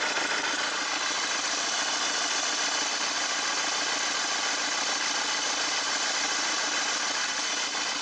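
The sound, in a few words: Mercedes Vito diesel engine idling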